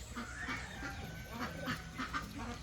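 Pekin ducks quack in short repeated bursts, a few calls overlapping, fairly faint and somewhat distant.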